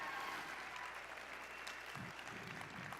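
Steady, fairly faint applause from an audience at an evening ribbon-awards bash, a continuous patter of many hands that carries on without a break for about three seconds.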